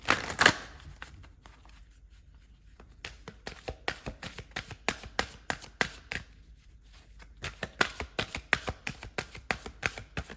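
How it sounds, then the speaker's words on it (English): Tarot cards are shuffled up close in two bursts of rapid, crisp flicking, with a short quiet pause in between. "One more shuffle"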